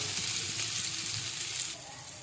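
Potato filling for homemade aloo paratha frying lightly in a little oil, a steady close hiss and sizzle that softens near the end, with no talking.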